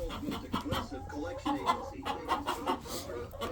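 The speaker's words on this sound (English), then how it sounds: "These Morans are really great birds." French Black Copper Marans chickens clucking nearby in short, chattering bursts, a busy flock sound with soft murmuring mixed in.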